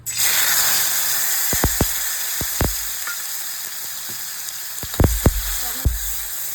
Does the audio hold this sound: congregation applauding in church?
no